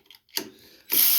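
A ratchet with a 5/16 socket working on carburetor bolts of a Toro TimeCutter zero-turn mower, giving short close clicking bursts followed by a steadier ratcheting rasp.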